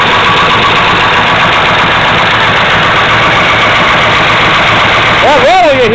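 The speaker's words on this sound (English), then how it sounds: "That rattle you hear is actually the valve lifters." A 1970 Camaro SS V8 with a solid lifter cam idles steadily and loudly up close, a dense rumble with a continuous mechanical valve rattle running through it.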